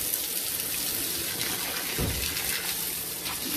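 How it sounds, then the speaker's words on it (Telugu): Water runs in a steady, close gush while plants are watered at home, a continuous splashing flow with no voices over it. "మొక్కలకు వాటర్ పడుతున్నావా?"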